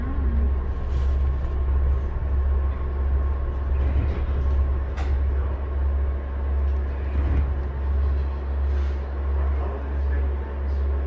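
Steady low rumble of a Siemens U2 rail car riding the Blue Line, a constant heavy drone with faint rattles and squeaks above it, continuous and fairly loud with no clear speech.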